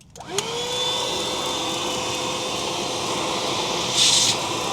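A Black+Decker Dustbuster Flex handheld vacuum starts up and runs steadily, a loud continuous whine and rushing airflow as it sucks up dirt, with a brief extra hiss of debris near the end.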